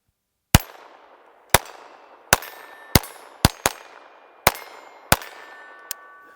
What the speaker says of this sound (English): So let me see if I can hit that 4-inch plate at 100 yards.